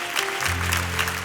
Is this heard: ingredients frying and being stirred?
no